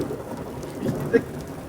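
Steady rain falling and pattering on surfaces, a soft continuous hiss with a brief low rumble partway through.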